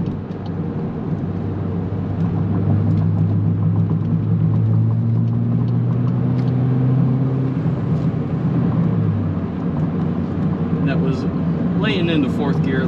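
A VW MK8 fitted with a flex fuel kit accelerates onto a freeway, its engine droning low and rising in pitch as it pulls, heard from inside the cabin under steady road rumble.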